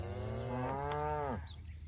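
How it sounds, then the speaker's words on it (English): A cow outside a farm fence line lets out a single long, deep moo that swells and falls away, clear and fairly close against quiet outdoor background. "they get out on the outside of the fence line and then they moo"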